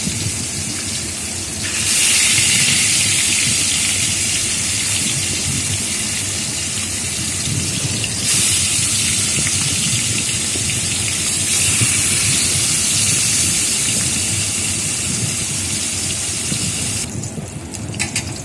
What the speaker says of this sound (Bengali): সর্ষের তেলটা গরম হয়ে গেছে। এরপর আমি আস্তে আস্তে এক একটি করে মাছ ছেড়ে দিচ্ছি।